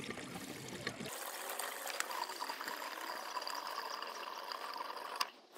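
Diesel fuel pours steadily into the tank of a Kubota, a continuous close trickling splash that runs unbroken for several seconds before stopping.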